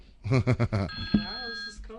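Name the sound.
telephone ringing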